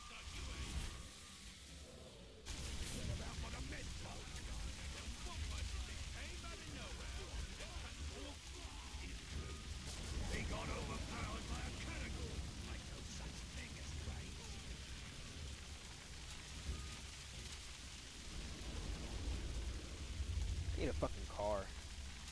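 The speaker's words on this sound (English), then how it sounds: "look how the rain hits the ground" Rain hitting the ground in the video game Middle-earth: Shadow of Mordor, a steady, dense hiss of falling drops that continues throughout, with faint voices murmuring underneath.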